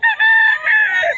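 A young stag rooster crows once at a busy Bocaue market, a loud, close, drawn-out harmonic call with a brief break near the start, heard alone.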